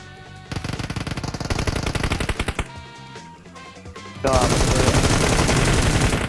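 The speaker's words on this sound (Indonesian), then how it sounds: "Dia nembakin kita, Bang" Rapid automatic gunfire from an enemy squad in PUBG Mobile, loud bursts of quick repeated shots that break off, then a heavier sustained barrage with no talk over it.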